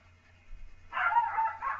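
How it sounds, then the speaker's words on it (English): Dog barking at the neighbors indoors, a short burst of yelping barks near the end, moderately loud, after a quiet stretch. "he's barking at the neighbors"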